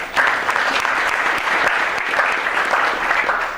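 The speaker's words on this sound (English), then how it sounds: "Round of applause for Betty." Steady applause from a lecture audience for an absent student, dense and even clapping that holds at full strength for several seconds before easing slightly at the end.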